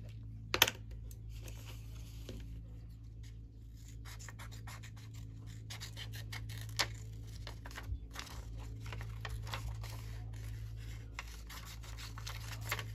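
Painted paper collage pieces are cut with scissors in quiet, close snips and scratchy rustles, irregular and faint over a low steady hum.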